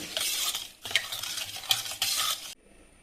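A spoon briskly stirs a yeast mixture in a bowl for sweet bun dough, making rapid swishing, scraping strokes in several short bursts close by before stopping.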